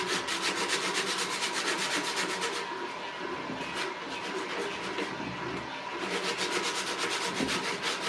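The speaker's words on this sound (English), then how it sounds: "I apologize to anybody that can't stand the sanding sound" Rhythmic hand sanding on an old metal paint can, a gritty back-and-forth scraping that pauses briefly midway and then resumes, close up.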